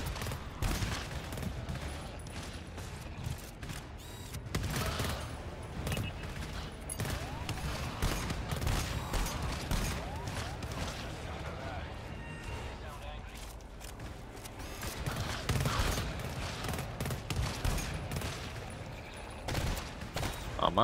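Rapid bursts of gunfire aimed at enemies in the co-op horror shooter GTFO, dense rattling volleys and single shots continuing throughout, fairly quiet overall, with players talking over the shooting.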